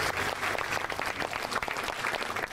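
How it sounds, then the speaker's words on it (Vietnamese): Studio audience on a Vietnamese TV game show applauds three competing families, a dense steady wash of clapping sustained throughout at moderate volume. "Để rồi một tràng pháo tay dành cho ba gia đình."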